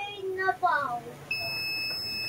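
After a few quick spoken words, a multimeter continuity buzzer testing an angle grinder's power wire starts a steady high-pitched electronic buzz that holds unbroken to the end, loud and close.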